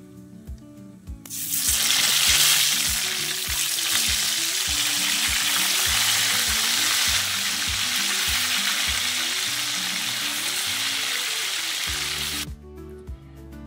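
Tempeh frying in hot oil gives a loud, steady sizzle that swells in after a quiet start and cuts off near the end, over faint rhythmic background music.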